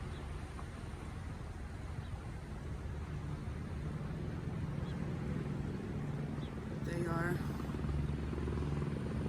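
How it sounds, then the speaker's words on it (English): A continuous low whirring drone of a helicopter over the flooded Kerrville, Texas area, distant and fairly faint, steady throughout with a brief chirping sound near the end. "There's a helicopter again."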